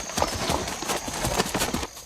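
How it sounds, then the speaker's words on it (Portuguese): A Campolina mare, a saddle breed from Minas Gerais, Brazil, clip-clops in a steady rhythm of close hoofbeats over a constant background hum. "monta agora uma égua da raça Campolina, também desenvolvida em Minas Gerais"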